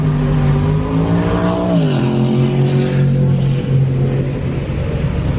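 A Ram 1500 Hemi pickup runs a quarter-mile drag pass, the V8 revving loud and close with rising harmonics, a quick gear shift near two seconds, then a steady hard pull with no talk.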